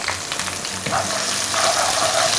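Garlic, ginger and green chili fry in hot oil with mustard seeds for a beetroot pickle, making a dense, steady sizzle with soft stirring scrapes, close and without voices.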